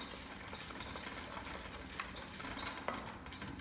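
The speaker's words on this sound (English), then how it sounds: "And I like to give that a good mix because I wanna make sure that flavor really" Tofu scramble with soy sauce and spice mix being stirred in a pan makes a soft, continuous scraping and shuffling with a couple of faint clinks, close and low in level, with no one speaking.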